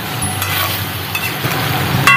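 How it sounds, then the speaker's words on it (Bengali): Chicken pieces sautéing in a pan with small splashes of milk, a steady close sizzle with light stirring and scraping, plus a few brief metallic clinks near the end. "অল্প অল্প করে দুধ দেব আর মাংসটাকে আমি ভালো করে কষাবো"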